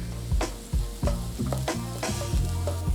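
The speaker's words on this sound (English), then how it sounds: "I'm gonna go ahead and add my garlic. And I'm gonna saute that up for just a minute." Garlic sautéing in a pan with softened onions and celery, stirred in steady strokes about twice a second, each scrape rising over a continuous close sizzle.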